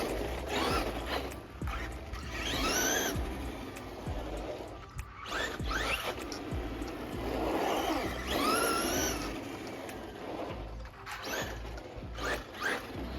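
A small 2WD RC car zips around, its electric motor whining up and down in quick revving bursts with rattling and clicking from the chassis, close by and fairly loud, without talk.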